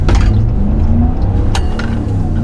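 A Ram 1500 Limited pickup truck pulling out onto a road, its engine a steady low rumble with a gentle rise in revs, heard from inside the cab with no talking.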